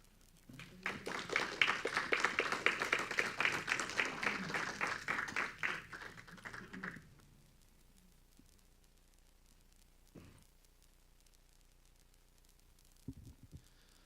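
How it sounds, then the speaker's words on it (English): An audience applauds after a speech, a loud burst of many hands that swells, holds for several seconds, then cuts off into near-silence with a few faint knocks afterward. "One more round of applause, please."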